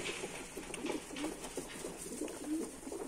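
Soft pigeon coos repeat every second or so, low and murmuring, over a faint hissy background with other birds.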